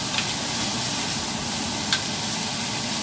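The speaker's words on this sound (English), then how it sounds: "my brother is cooking the bacon right now for to mix with the Brussels sprouts" Bacon frying in a pan for Brussels sprouts: a steady broadband sizzle and hiss, close and even, with a couple of faint pops and no talking.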